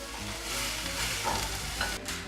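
Onions frying in a pan for a halal shepherd's pie, a steady close sizzle with stirring scrapes running throughout, no voices.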